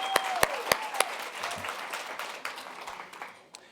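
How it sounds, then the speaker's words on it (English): Audience applause with several sharp, loud close claps standing out at the start over a softer crowd clapping that gradually fades, with a faint tone briefly audible. "So let's another round of applause for Kimball for simply taking this on."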